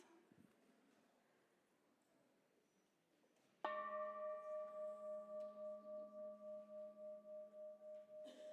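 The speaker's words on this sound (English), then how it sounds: "as we ring our bell and let the sound connect us" A church bell rung during a Blessing of the Animals service in a sanctuary: after a quiet murmur, one clear strike rings out and holds as a long, bright tone with a slow, steady pulsing throb, heard alone.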